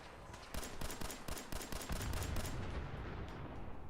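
Gunfire in Fallout 4, a rapid series of sharp shots in the first half giving way to a low rumbling burst, with no talking.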